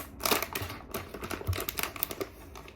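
A candy wrapper is torn open in a few quick crinkly rips and rustles, close and fairly quiet, with no talking.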